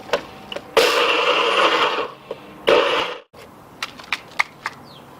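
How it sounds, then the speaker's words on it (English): A Magic Bullet blender grinding soaked, dried nuts in two loud whirring bursts, separated by a short pause, with clicks and handling taps afterward. "Just making a nice full blender of nuts here."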